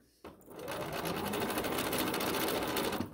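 A Bernina sewing machine fitted with foot #23 runs continuously while sewing mini piping, a steady, fast, even whir close by that starts after a brief click.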